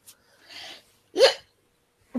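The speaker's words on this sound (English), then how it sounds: "my hiccups are really annoying in live streams" A person hiccups sharply once, close and fairly loud, between soft breaths in otherwise quiet surroundings.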